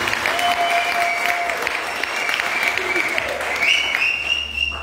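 Congregation at a parish anniversary Mass applauding for a visiting priest, a continuous crowd of clapping hands filling the church while voices carry tonal cries and chatter over it throughout.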